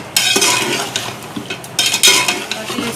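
Katwa gosht, mutton with spices, sautéing in ghee: a loud close sizzle with repeated spoon strokes scraping and clanking against the pot, in uneven bursts.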